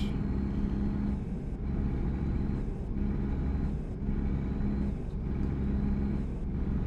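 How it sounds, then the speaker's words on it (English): Steady, loud truck engine drone in American Truck Simulator, cruising on a Louisiana highway, with a continuous low rumble and faint periodic hissing swells over it, no talk. "My truck is making a strange noise."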